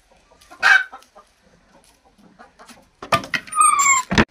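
A fighting-breed chicken clucks nearby, a few short calls at first, then a louder run of squawking clucks near the end.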